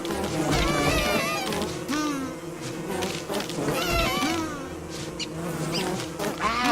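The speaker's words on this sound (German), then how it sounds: "ich muss jetzt noch zwei Bienennester kaputt machen" Loud, steady buzzing of bees swarming around bee nests in the Don't Starve Together game, rising and falling in waves throughout with a few brief higher tones over the drone.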